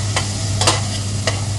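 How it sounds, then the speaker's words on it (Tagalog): Onion and tomato stirred in a frying pan for ginisang ampalaya, with a steady sizzle and a few distinct scraping strokes of the spatula over a low, constant hum. "Halo-halo natin yung ating sibuyas at kamatis."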